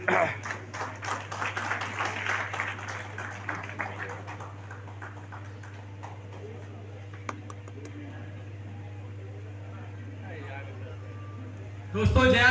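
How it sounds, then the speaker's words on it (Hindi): An audience at an Indian stage event claps for a few seconds, a moderate patter of hands under someone speaking, fading into steady room hum. "जोरदार तालियों के लिए"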